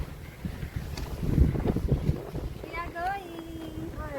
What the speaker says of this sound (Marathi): वाव खूप मस्त हवा सुटली.